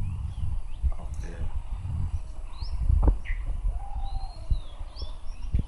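Birds singing after rain in a garden with a mango tree, scattered short chirps and whistles at moderate distance, heard over low background rumble and occasional knocks.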